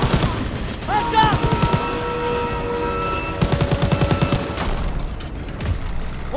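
Call of Duty WWII gameplay fills the air with rapid bursts of gunfire and machine-gun fusillades over a rumbling background, with tonal sound effects and shouted voices mixed in.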